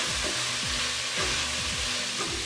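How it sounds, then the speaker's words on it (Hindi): Chicken keema with ground coriander and red chili frying in a pan, a steady close sizzle with repeated scraping stir strokes throughout. "अब हम इसकी अच्छे से भुनाई कर लेंगे।"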